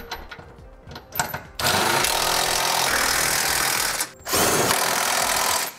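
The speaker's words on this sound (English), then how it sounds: "With all of our hardware now started, we can tighten it down. We're using a 22 millimeter socket." A power tool with a 22 mm socket tightens trailer hitch bolts on a 2016 Honda Pilot: a couple of short clicks and spurts, then two sustained loud whirring runs broken by a brief pause.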